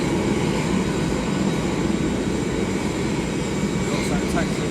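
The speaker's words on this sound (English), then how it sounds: "FedEx is taxi now." A FedEx aircraft taxis at East Midlands Airport, its steady jet engine roar sounding continuous and moderately loud across the whole stretch, with a voice talking over it.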